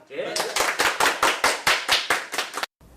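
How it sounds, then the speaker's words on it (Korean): Staff in a dental implant company office break into group applause to celebrate, a burst of brisk, evenly paced claps from several people that carries on for over two seconds and then stops abruptly. "우리 박수 한번 칠까, 이거?"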